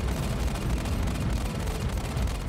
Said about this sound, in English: I kind of like these laser cannons.